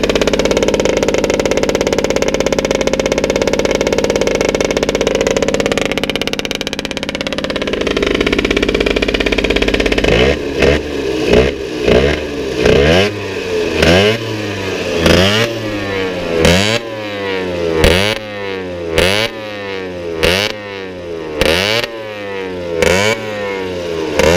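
An MBK 51 CF Group 2 moped from 1986/87, original version, has its two-stroke engine running steadily before it settles and then revs in a series of sharp, rhythmic throttle blips, close and loud.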